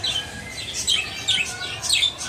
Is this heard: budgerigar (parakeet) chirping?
yes